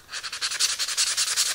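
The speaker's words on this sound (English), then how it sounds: "we're also going to sand the end grain" Hand sanding on wood end grain: quick, regular back-and-forth scratchy strokes, about eight per second, close and fairly loud, with no talking.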